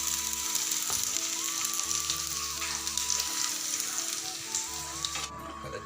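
Garlic tempering frying in hot oil, a continuous close sizzle and crackle with a faint tonal hum underneath, steady throughout before cutting off abruptly near the end.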